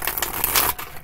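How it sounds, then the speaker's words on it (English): A deck of cards is shuffled in quick riffling bursts during a zodiac card reading for Scorpio, a close, crisp papery rattle lasting about a second with no voices. "Two more shuffles for Scorpio!"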